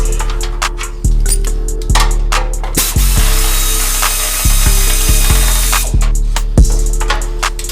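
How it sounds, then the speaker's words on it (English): A 9/16 ratchet backs out rear bumper bolts in a rapid, close, loud clicking run, with brief pauses between bursts as the handle is swung back and forth. "Okay, rear ratchet. It's gonna be a 9/16."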